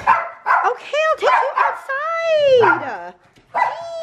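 A dog indoors barking and yipping in a quick excited series, with whining, high-pitched howl-like tones between the barks, close and loud.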